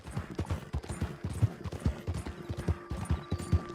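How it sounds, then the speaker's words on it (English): Horse hooves clip-clop at a steady walking rhythm in the Red Dead Redemption 2 video game, soft repeated thuds over a quiet ambient background with a faint tone. "I got a battle horse now."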